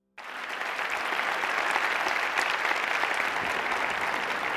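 An audience at a session bursts into sustained, steady applause that starts abruptly and holds at an even, fairly full level throughout.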